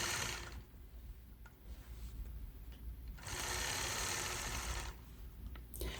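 A sewing machine quilts a curved point-to-point stitch line along a 4-in-1 quilting ruler on a star block, its steady motor whir running in bursts with short pauses between runs.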